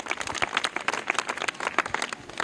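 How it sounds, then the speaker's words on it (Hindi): Schoolchildren in a classroom clapping together after a correct quiz answer, a dense, lively burst of hand claps lasting a couple of seconds at moderate volume. "करेक्ट आंसर, जोरदार तालियां"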